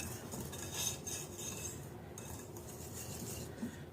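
Bath bomb mixture with purple coloring is stirred in a bowl, giving a faint, steady scraping with soft clinks of a utensil against the bowl's sides, close by and alone.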